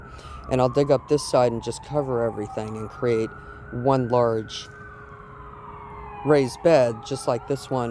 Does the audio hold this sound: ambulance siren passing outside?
yes